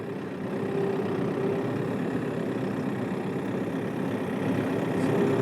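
A John Deere-style RX7320 diesel tractor engine runs steadily at a low, rumbling idle, close and fairly loud, with no voices.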